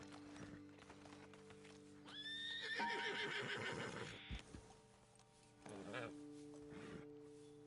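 Horses in Red Dead Redemption 2 whinnying loudly in a long descending neigh, followed by snorts and softer nickers, with faint hoof clops and a quiet steady background.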